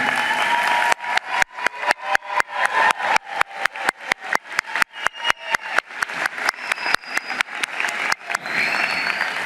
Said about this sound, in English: Graduates, please stand to applaud your family, your friends, and your supporters